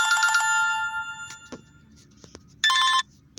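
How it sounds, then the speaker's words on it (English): A mobile phone ringtone plays a bright, repeating electronic melody loudly up close, stops, and then a short, loud burst of ringing returns near the end after a few faint clicks. "And my phone would ring."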